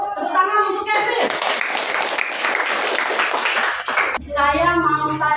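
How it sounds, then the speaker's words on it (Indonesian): Pupils in a classroom clap for a classmate in a short, dense burst of applause lasting several seconds, with talk before and after it. "Tepuk tangan untuk Kevin"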